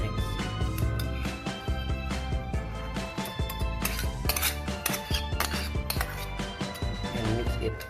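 A fork beats instant noodles and beaten eggs together in a bowl, with rapid continuous clinks and scrapes of metal against the bowl, close and busy throughout with no talk.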